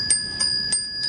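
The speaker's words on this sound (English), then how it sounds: "brass leaf, and all the bells will ring" Thai temple bells hung with brass leaves ringing in a breeze, four light metallic chimes at even intervals with bright sustained high tones, fairly close and clear.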